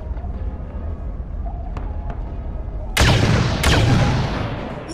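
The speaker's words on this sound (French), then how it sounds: "c'est des gros canons" Big cannons in Star Wars Battlefront II fire two loud, heavy blasts about half a second apart over a low rumbling battle background.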